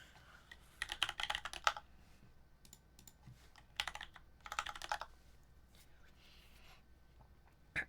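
Bursts of rapid computer keyboard typing come in several quick clattering runs separated by pauses, fairly close but quiet, with a soft murmur of speech around them.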